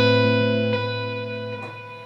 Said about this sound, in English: Without the wobbly effect, it sounds like this.